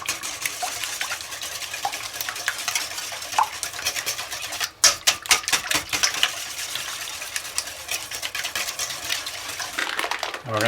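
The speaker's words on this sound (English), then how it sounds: "We're going to mix that together." Vegetable oil and buttermilk are whisked together in a bowl, giving a rapid run of wet clicking and tapping against the bowl sides that rises and falls, close and fairly quiet, with no talk.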